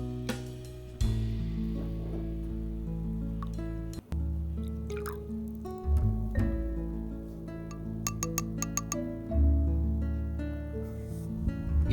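A sauce of soy sauce, water, cornstarch, oil and black pepper sloshes and squishes while being shaken and mixed in a container, loud close liquid splashes and drips in uneven bursts.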